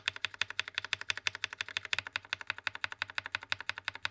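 Rapid, steady typing on a mechanical keyboard with Akko switches, crisp clacky keystrokes in a fast even rhythm, close and clear with no talking.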